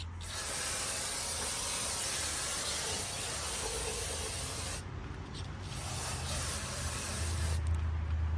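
Brake cleaner sprays onto a rear brake rotor of a 2012-2020 Toyota 4Runner, a loud continuous hiss that breaks off briefly twice before resuming.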